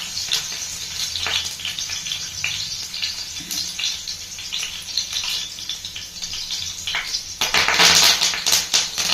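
Garlic sizzles in hot oil and ghee for a mushroom pepper fry, a close crackling hiss with stirring scrapes that swells louder near the end.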